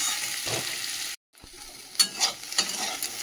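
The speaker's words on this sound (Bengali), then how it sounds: "আলুটা পেঁয়াজের সাথে একটু ভেজে নেব।" Potato pieces frying with onion in a pan give a close, steady sizzle, broken by a short silent gap and then a few scraping stirs of a spoon against the pan.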